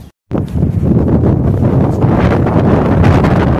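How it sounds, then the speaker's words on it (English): Strong wind buffets the microphone outdoors in a large backyard in Killeen, Texas, in a loud, continuous roar with gusty surges, after a brief moment of silence at the start. "it's real windy"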